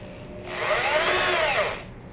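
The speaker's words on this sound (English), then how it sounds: "we're going to drill a very shallow hole that we're going to install the firing mechanism into." A power drill bores a shallow hole into the wood of a homemade trebuchet for its firing mechanism. One close, loud whirring burst of about a second and a half rises and then stops, with no talking.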